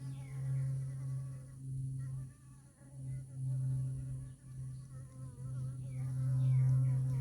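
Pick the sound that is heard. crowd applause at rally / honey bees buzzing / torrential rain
honey bees buzzing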